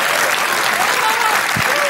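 A studio audience on the Norwegian TV show Åpen Post applauds steadily, dense clapping filling the room at an even loudness throughout.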